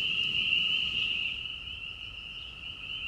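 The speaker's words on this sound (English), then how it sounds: "When the chorus frogs heard Mama Skunk, they stopped singing." Chorus frogs sing as a continuous, high, trilling chorus that holds a steady pitch and fades slightly toward the end, heard without any talk.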